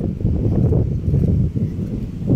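Steady wind gusts on a cold mountain buffet the microphone, a low, rough rushing that swells and dips without pause.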